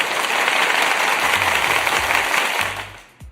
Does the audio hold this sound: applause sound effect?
yes